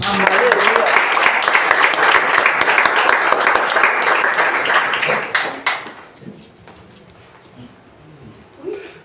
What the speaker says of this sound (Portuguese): Em nome de Jesus, aplauda o Senhor.